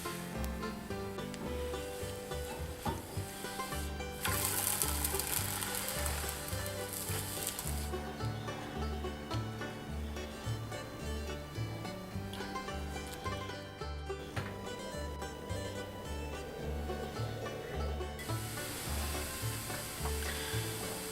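Crepe batter sizzles in a hot frying pan with a steady, close frying hiss that runs throughout, partly under a layer of background music.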